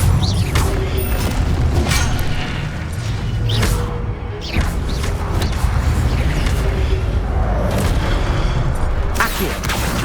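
Spell effects cast in the video game Hogwarts Legacy, a dense run of booming, crashing bursts and whooshes that come one after another over a constant low rumble, loud and close.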